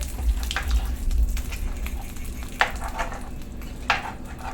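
Crab curry being stirred in a pan after tempering spice powder is poured in, Kerala style: a steady close sizzle with soft scraping strokes and a few sharper clinks, low hum underneath, no voices.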